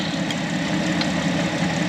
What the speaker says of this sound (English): I know it may be hard to hear me over the engine, but I'm letting it run just to help the battery recover.